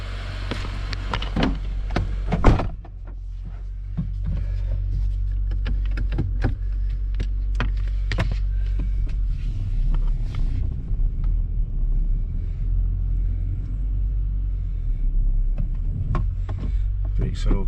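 A Honda car being reversed after sitting unused, with a steady close engine rumble and scattered clunks and knocks after a sharp bump, while a person talks over it.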